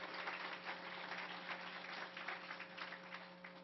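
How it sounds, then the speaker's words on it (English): Applause from a morning audience at a neighborhood best practices conference, a dense, sustained wash of clapping with no talk over it, somewhat muffled and distant. "Give yourself a round of applause for making it here this morning."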